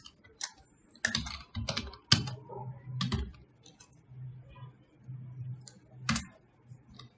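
Code typed on a computer keyboard in short bursts of crisp key clicks separated by pauses, with a quiet low hum underneath and no speech.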